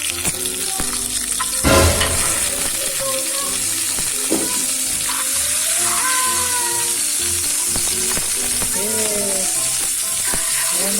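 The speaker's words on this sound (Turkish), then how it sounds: "Aa, yağımız eriyor." Butter melting in a frying pan, sizzling and crackling steadily throughout at close range, with a brief louder thump near the start and faint clinks and tonal kitchen sounds layered over the hiss.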